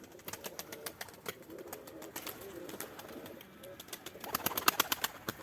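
Pigeons released to fly give soft cooing and wing flaps among light clicks and rustles, rising busier and louder toward the end, at a moderate distance with no talking.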